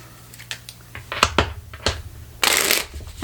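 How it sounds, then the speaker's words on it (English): Playing cards are handled and shuffled close up, with scattered taps and flicks leading into one loud, sustained riffle shuffle near the end. "One more good shuffle."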